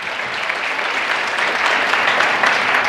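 Dense, steady applause from a large audience at a Lenovo Transform tech keynote in New York, loud and continuous without talk.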